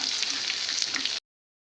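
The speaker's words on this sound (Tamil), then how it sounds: "நம்ம கோட் பண்ணி வச்சுருந்த முட்டையை ஒரு பீசஸ் அதில் சேர்த்து நம்ம பொரிச்சு எடுத்துக்குவோம்" Coated egg pieces for egg Manchurian fry in hot oil with a dense, steady, close sizzle that lasts just over a second before cutting off to silence.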